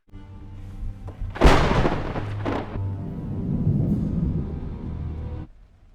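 Thunder from a storm in a Spanish horror film scene, with a sudden loud crack breaking into a long rolling rumble that fades out after several seconds.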